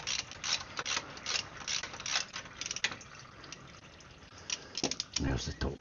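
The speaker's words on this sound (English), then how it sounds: "Now I'll take the top plug out." A ratchet clicks in short bursts while loosening the top fill plug on a Jeep during a fluid change, the rapid metallic pawl ticking close by with a person talking briefly over it.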